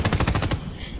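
Rapid automatic gunfire in Fortnite rattles out as a loud, close burst of about eight quick shots, then cuts off abruptly, leaving faint background noise.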